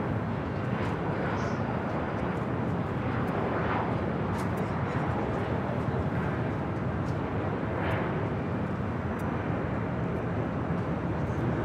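A Delta Connection Embraer E175 jet arriving at LAX on a flight from San Jose, a steady broadband engine roar that holds fairly constant throughout at moderate distance, with no talk over it.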